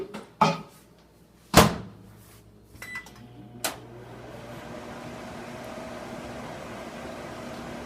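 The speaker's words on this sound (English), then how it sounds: "I could put this entire thing into the microwave." Microwave oven in use: several clicks and thumps of the door and keypad beeps, then a steady humming drone as it starts running and continues to the end.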